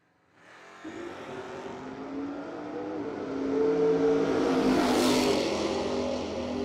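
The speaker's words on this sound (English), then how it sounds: "Jake in the S10, working the throttle" A 1984 Chevrolet S10 drag racer at a no-delay drag racing event revs its engine as the driver works the throttle, a rising, swelling roar that peaks and holds near the end.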